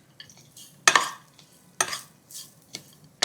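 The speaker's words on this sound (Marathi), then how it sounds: "रवा आणि खोबरं छान भाजलं गेलंय बघा." Semolina and grated coconut roasting in a pan, heard as a few separate scraping stirs in bursts with quiet gaps between them, close and without speech.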